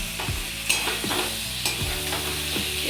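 Ridge gourd, potato and prawns being stirred into a frying spice masala, with a strong continuous sizzle and repeated spatula scrapes against the pan, close and fairly loud, no voices.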